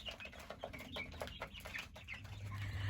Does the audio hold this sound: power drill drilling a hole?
no